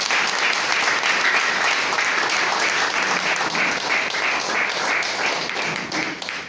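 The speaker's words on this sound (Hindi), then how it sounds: "एक बार जोरदार रमेश सर के लिए तालियां बजाइए" Loud, sustained audience applause for a principal at an event, a dense roar of many clapping hands that stays steady across the whole stretch and dips only slightly at the very end.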